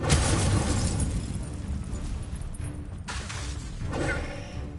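Continuous loud blasts and whooshing bursts from fire and explosion spells being cast in Hogwarts Legacy, a dense roaring barrage with no talk.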